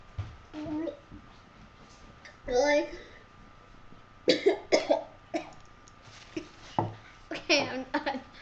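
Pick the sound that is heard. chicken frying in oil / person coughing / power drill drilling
person coughing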